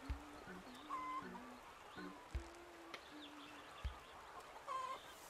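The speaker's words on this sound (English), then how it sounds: "I'll leave these chickens alone." Chickens cluck in the So Blonde video game, with short, repeated clucks and squawks scattered across a quiet, faint background and no speech over them.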